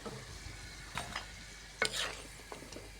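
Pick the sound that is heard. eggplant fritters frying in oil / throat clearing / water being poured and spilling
eggplant fritters frying in oil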